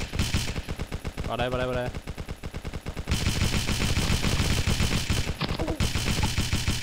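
Rapid automatic gunfire rattles almost continuously in the mobile video game Pixel Gun, in loud repeated bursts with short pauses, while someone speaks briefly over it.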